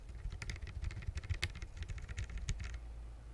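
Rapid, uneven typing on a custom Boardwalk mechanical keyboard with bare switches and no keycaps, close and fairly quiet, a busy patter of sharp clicks.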